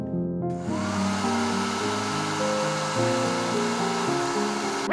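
A hair dryer blows steadily with a loud, constant whirring hum and airy rush, heating a computer mouse's adhesive feet, starting abruptly and running without a break.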